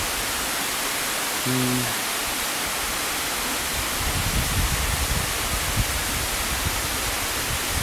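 Barriowin waterfall in upper Marikina sends out a constant broadband rush of falling water, loud and unbroken, with a brief tonal beep early on and some low rumbling knocks midway.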